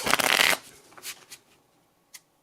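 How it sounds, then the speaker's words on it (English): A deck of playing cards is riffle-shuffled during a solo board game, a dense half-second burst of rapid fluttering close up, followed by a few soft taps and a single quick snap as the deck is squared. "Let's do one more shuffle."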